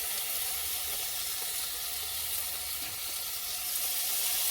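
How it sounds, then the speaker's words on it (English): Bacon frying in a home kitchen pan, a steady close sizzle and hiss with no pauses and no voices. "I'm going to start with frying up some bacon"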